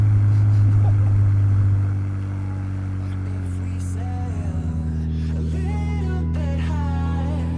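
The engine of a modified Porsche Cayman hums along steadily, first at a louder level and then settling into a lower, even drone, with a few rising tonal sweeps toward the end.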